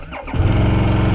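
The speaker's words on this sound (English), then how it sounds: "And now comes the most important part, to see if our bike will start or not." A Harley-Davidson Sportster S in snow is started: a brief starter whine gives way to the engine catching into a loud, close, rumbling idle.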